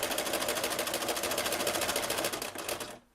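A sewing machine stitching in reverse on a fabric potholder, a fast, steady mechanical whirring with even rapid needle ticks, close and loud, slowing and stopping at the end.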